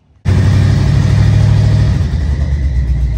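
A 1986 Ford F150 engine runs loud and close, its steady idle carrying a thin high whine from a slipping, squealing power steering belt.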